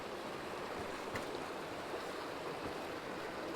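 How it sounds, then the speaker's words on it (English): Loud waterfall in a canyon, a steady broadband rush of falling water that fills the scene evenly from start to finish, with no voices. "Yes, the waterfall is very loud."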